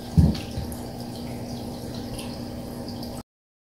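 Cooking oil pours steadily into a container, a soft continuous trickle following a brief clunk at the start, then stopping abruptly.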